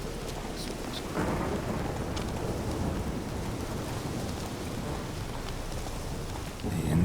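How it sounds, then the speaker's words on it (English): Heavy rain from a Witcher 3 heavy rain mod pours steadily, with a deep, rumbling thunder undertone that swells near the end. "we have the heavy rain mod, that's why it's so pretty intense"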